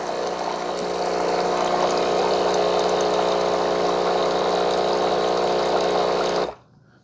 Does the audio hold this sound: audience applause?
no